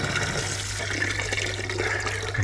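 Aerated water gushes from a cut live plumbing pipe into a bowl, making a close, steady splashing stream with a low hum beneath it and no talking.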